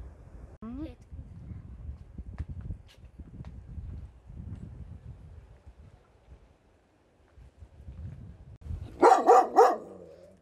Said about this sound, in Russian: Вот, это знакомая собачка Амига, которая всегда нас облаивает.